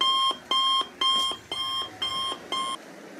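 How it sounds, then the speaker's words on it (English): An alarm clock rings in six evenly spaced bursts of sharp, high electronic beeping, each lasting about a quarter second with short gaps between them, loud and close with no other sound. "that's a violent alarm clock"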